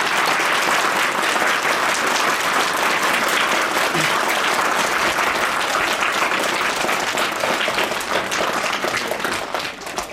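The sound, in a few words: students applauding to welcome guests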